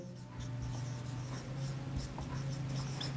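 Marker or chalk scratching steadily on a classroom board as a teacher writes a word, a faint, continuous scraping with small stroke accents, no speech.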